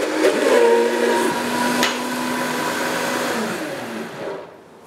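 A Vitamix blender runs at high speed whipping anchoyade sauce for a Caesar salad, a loud whirring motor whine that holds steady, then slows and winds down at the end.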